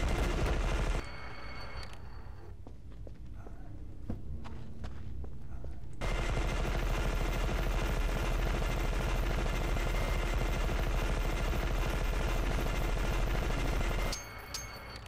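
Rapid automatic weapon fire in the first-person shooter E.Y.E: Divine Cybermancy, an inaccurate gun, comes in a brief burst, then a pause with scattered game sounds, then a long, loud, sustained stream of shots before stopping.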